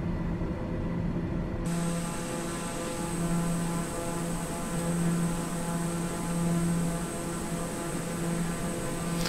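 Airliner engines in Microsoft Flight Simulator on descent with the throttles pulled back, giving a steady, loud droning hum with faint tonal lines that runs unbroken and alone throughout.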